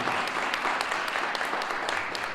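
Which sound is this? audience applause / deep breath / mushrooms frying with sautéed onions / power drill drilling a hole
audience applause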